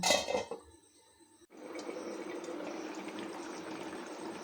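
Banana-flower kofta curry simmering covered in a pot over a low gas flame: a few clinks of cookware, a brief hush, then a steady soft bubbling hiss that holds evenly to the end.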